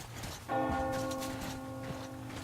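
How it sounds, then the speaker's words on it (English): A bell tolls once in the Metro Exodus game, its long metallic ring sustaining with steady overtones and slowly fading, heard alone over a low ambient background. "Do you hear that bell?"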